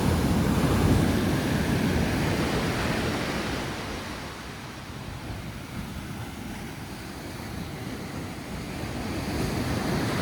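Ocean waves breaking on a wild Dominican Republic beach make a steady, loud roar of surf, swelling and easing over time, with wind buffeting the microphone and no talk.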